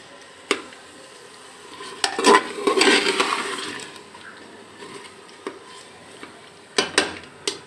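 Nihari masala is roasted and stirred in a pan: sharp spoon knocks and scrapes come at intervals, and a swell of sizzling hiss builds in the middle before fading back to scattered clinks.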